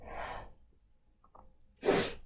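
A single sharp sneeze bursts out near the end, preceded by a breathy exhale and a quiet intake of breath.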